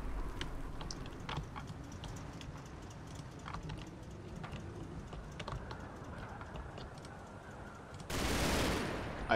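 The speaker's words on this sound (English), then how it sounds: "No, that was my machine gun fire." Machine gun fire in a video game: irregular bursts of sharp cracks over a steady low rumble, with close clicking like typing on a keyboard, ending in a louder sustained noisy blast.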